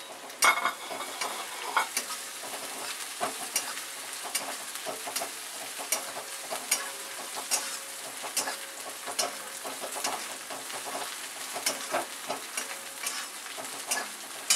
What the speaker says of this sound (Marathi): चांगलं भाजून घ्यायचं हे बघा तर हे चांगलं भाजलेलं आहे